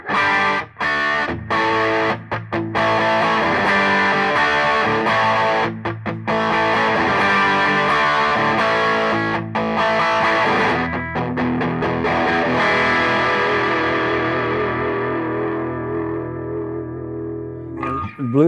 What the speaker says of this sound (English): Here's some typical rock power chord sounds.